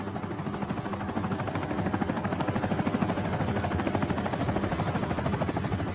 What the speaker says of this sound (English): The small helicopter can barely lift her, and the ground team must help before the pilot manages to get his precious cargo airborne.